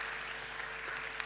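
Faint, distant applause from an audience for a team at a hackathon in Melbourne's Federation Square, a steady soft patter of clapping with no voices over it.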